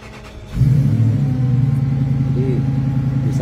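A V8 4000cc engine in a Sidekick semi campervan fires up after a brief quiet moment, then settles into a loud, steady low rumbling idle close by.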